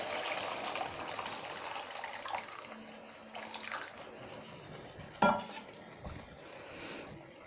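A glass of lukewarm water is poured into yogurt-based kofta karahi gravy in a pan, a rushing splash that fades into softer trickles, followed by a sharp metallic clink of utensils.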